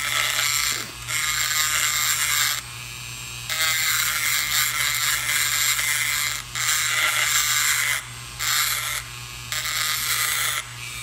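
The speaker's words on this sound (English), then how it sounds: "And you can see I'm just kind of grinding away that plating." Copper plating is ground off a circuit board pen blank during pen turning, making harsh, loud grinding bursts that start and stop repeatedly over a steady low mechanical hum.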